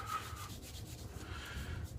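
Shaving soap lather being rubbed into the skin of the face, a soft, steady close-up rubbing and scrubbing texture that runs continuously without any talk.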